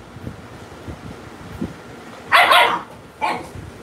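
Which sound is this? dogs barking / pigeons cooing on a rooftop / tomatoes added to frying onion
dogs barking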